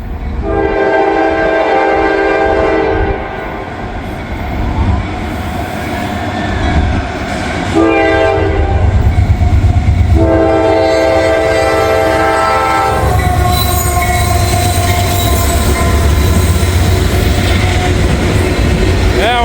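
A mixed-manifest freight train rumbles past at close range with steady wheel clatter, and a loud horn sounds in long blasts over the roar.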